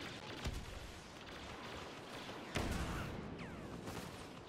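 Blaster fire in a Star Wars Battlefront multiplayer battle, scattered sharp shots and booming bursts, with two loud hits standing out over a continuous rumbling battlefield din and a faint whining streak near the end.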